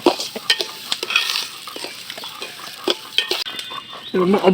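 Rice frying in a pot for khichuri, stirred with a utensil that scrapes and clinks in short bursts over a soft sizzle; the sizzle grows brighter toward the end.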